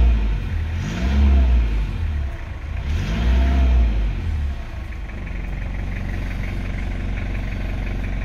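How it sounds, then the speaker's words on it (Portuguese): A 1992/1993 Toyota SW4 with the 2.8 3L engine runs steadily, rising twice in strong revs before falling back to a loud, even idle, heard close by with no talk. "Não sei se vai dar para ouvir o barulho do motor."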